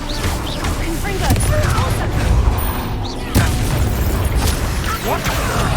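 The Confringo blasting spell goes off in a Harry Potter video game, set in Slytherin gameplay. It makes a dull boom and a burst of crackling explosions, heard together with a voice.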